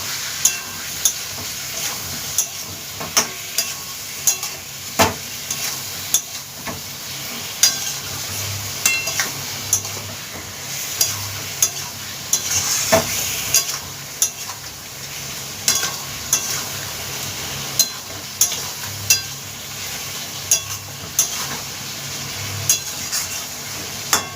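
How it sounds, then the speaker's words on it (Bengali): Continuous oily sizzle of a cumin, fennel and black pepper paste frying for a rohu carp curry, punctuated by regular sharp taps and scrapes of a spatula against the pan, close and steady throughout. "সেই পেস্টটা এবার আমি এর মধ্যে দিয়ে দিলাম দিয়ে কষিয়ে নেব ভালো করে"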